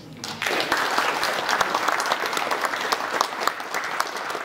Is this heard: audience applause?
yes